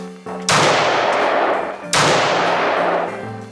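Two loud, close gunshots from a powerful gun boom about 1.4 seconds apart, each with a sharp crack followed by a long rolling echo that fades slowly, with no talking.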